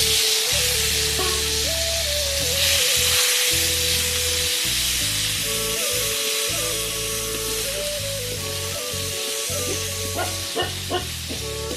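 Chopped tomatoes hitting a hot frying pan during home cooking, producing a loud, continuous sizzle that holds steady throughout, with a faint melodic background underneath.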